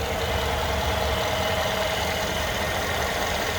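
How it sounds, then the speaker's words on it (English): A 2015 Mercedes-Benz GL550 4Matic V8 SUV engine idles close by, a constant low rumble with a smooth mechanical hum and no voices. "Truly a phenomenal engine, makes a great noise as well."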